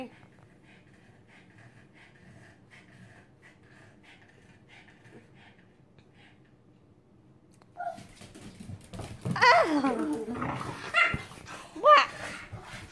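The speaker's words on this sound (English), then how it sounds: "Puppies, come this way." Puppies playing with a soccer ball, yipping, barking and growling in short bursts near the end after a quiet stretch, with people talking.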